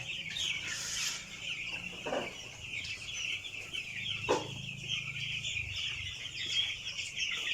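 Eleven-day-old broiler chickens cluck and chirp steadily in a crowded grower house, a dense constant flock chatter with a few louder calls standing out, and no talking.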